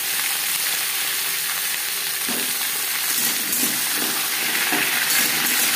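Papaya hits hot oil with tempering spices for a vegetarian mung dal, giving a loud, continuous sizzle. A few soft stirring scrapes break through it, close up and with no talking.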